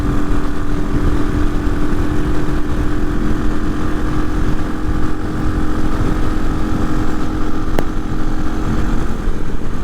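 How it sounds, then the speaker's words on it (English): A Hawk 250 motorcycle fitted with a Loncin RE250 engine and a six-speed gearbox runs smoothly while riding, a loud, continuous droning engine note with steady tone throughout. "It is a lot smoother, the engine."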